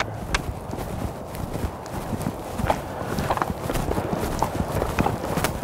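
A horse named as being led into his field walks on hard ground, hooves clip-clopping in an irregular steady rhythm close by, with light outdoor background noise and no talking.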